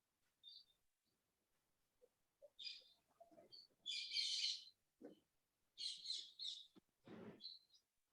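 Small birds chirp and tweet in short, scattered bursts against a quiet background, some calls sharp and high, others rapid fluttery trills, with faint low murmurs in between.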